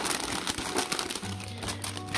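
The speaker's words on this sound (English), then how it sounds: "They can hear that it makes a completely different sound if they crumple it." Paper bags crumpled by hand in a sensory play tub, giving a dense, crackly rustle that runs continuously for a couple of seconds at close range, with no talking.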